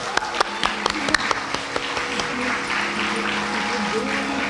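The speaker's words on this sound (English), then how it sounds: "A special round of applause for Ravi Shankar ji and Bhonaka" Audience applause after a Bharatanatyam arangetram dance recital, sharp nearby claps at first giving way to a steady crowd clapping, with faint voices and a tonal hum underneath.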